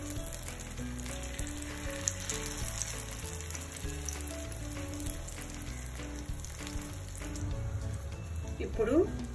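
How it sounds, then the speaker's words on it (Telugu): Maggi vegetable omelette mixture sizzles steadily in a little oil on a hot pan. Background music plays throughout, with a brief scrape near the end. "ఇప్పుడు పెనం పెట్టి కొద్దిగా ఆయిల్ వేసి ఈ మిశ్రమాన్ని దీనిలో వేసేసుకోవాలి"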